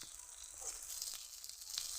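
Cauliflower fritters frying in a shallow layer of oil, giving a soft, continuous sizzle with faint crackles and small pops, close by but quiet, with no talking.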